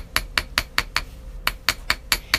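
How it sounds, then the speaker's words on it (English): A jewelry hammer lightly taps a wire hairpin, giving about ten sharp metallic ticks in a steady, fairly quick rhythm that sound close and alone. "Let the hammer do the work"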